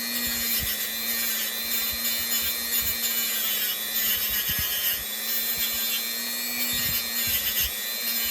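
A motorized buffing wheel hums steadily while jewelry metal held in pliers is polished against it, giving a close, even whine with soft rubbing and scattered low knocks throughout.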